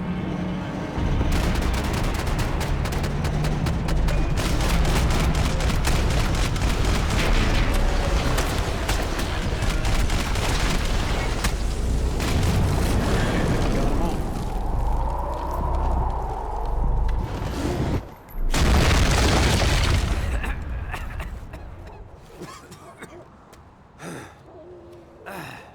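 Gunfire and explosions in the video game Max Payne 3: dense bursts of shots and blasts, loud and close, with a big detonation swelling near the end before scattered shots trail off, shouting voices mixed in.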